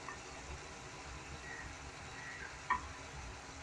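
Chopped spring onion greens cook in a pan as peanut-garlic powder is stirred through them, making a faint, steady soft sizzle and scraping with a couple of small clinks near the end.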